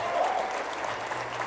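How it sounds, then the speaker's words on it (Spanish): Audience applause at a book-signing marathon at the Guadalajara International Book Fair, a steady wash of clapping throughout, fairly faint and distant, with a faint voice in the background. "Y un aplauso para este campeón Daniel,"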